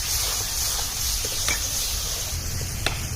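Spices sizzle in a pan for chicken curry, with salt, turmeric, cumin, coriander and Kashmiri red chilli powder being fried in oil; a soft steady hiss runs throughout with occasional light clicks of stirring, fairly quiet and without talk.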